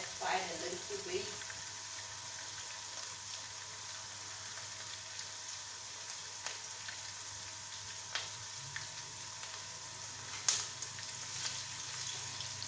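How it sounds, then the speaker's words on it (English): Onion frying in a pan for fried rice, a steady hiss and sizzle with occasional small pops and utensil taps, close by and fairly quiet. "allow the onion to get fried a little bit"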